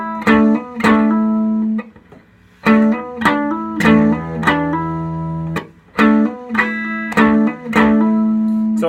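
Distorted electric guitar playing a riff with hammer-ons, loud chugging repeated phrases broken by short gaps, played alone with no talking.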